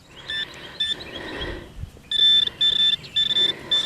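A Simplex metal detector sounds repeated beeping signal tones over a buried coin, short bursts of high tone in a quick rhythm that grow louder and more insistent toward the end, with faint rustling between them.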